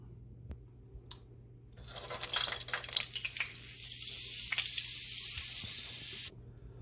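Margarine melting in hot oil in a pan, a sudden bright sizzle that builds, then settles into a steady hiss for several seconds before cutting off.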